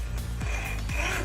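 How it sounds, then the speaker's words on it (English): A hacksaw cuts lengthwise through a C-cell battery in close, harsh rasping strokes, with about three back-and-forth pulls in quick succession and no talking. "I'm going to take a hacksaw and cut this C-cell battery down in half lengthwise"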